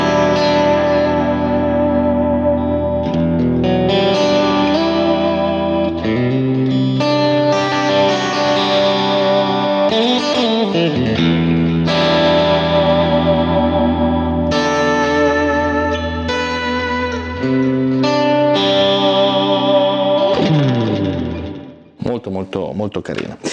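PRS Custom 24 SE semi-hollow electric guitar played through its two middle single-coil pickups with effects, producing sustained chords and melodic lines drenched in echo and reverb, loud and continuous, fading at the end.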